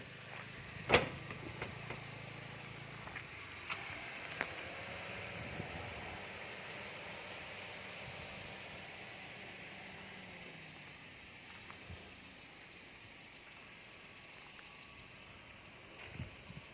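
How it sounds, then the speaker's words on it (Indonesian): A 2018 Toyota Calya 1.2G with manual transmission idling, showing a slight mechanical noise, its engine giving a low, steady hum with a few sharp clicks and knocks over a quiet background. "Ini ada suara agak sedikit. Ini sudah masanya mau ngetap oli nih."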